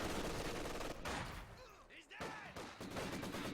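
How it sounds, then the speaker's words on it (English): Mortar fire trading back and forth in a Company of Heroes 2 battle, with dense overlapping gunfire and blasts that come in bursts, with a brief lull in the middle and voices faintly underneath. "On the left side looks still some exchanging mortar fire."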